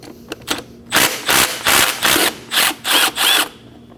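A 12mm socket on a ratchet works a starter bolt loose on a 2011-2016 Kia Optima, giving a quick burst of separate clicks followed by about six steady, evenly spaced ratcheting strokes, close and clear.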